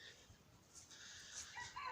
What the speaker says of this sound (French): tous les coqs qui m'appellent